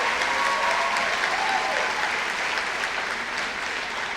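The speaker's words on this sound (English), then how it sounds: "Why don't we give those a round of applause?" A graduation ceremony crowd fills the space with loud, even, sustained applause and no talk over it.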